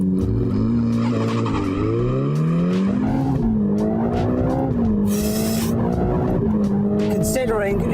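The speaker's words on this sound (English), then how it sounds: "Considering it's skidding around as it is." A lightweight Praga Bohema GT car launches hard on a greasy, slippery track: a loud engine note climbs and shifts through gears, with tyre squeal and skidding throughout and a brief high hiss near the middle.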